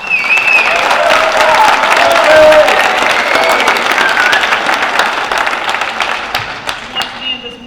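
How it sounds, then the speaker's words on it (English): Crowd applause with some cheering at a high school football recruit's commitment announcement at Jonesboro High School, loud at first and gradually thinning into scattered claps, with voices talking underneath. "Let's give him a round of applause."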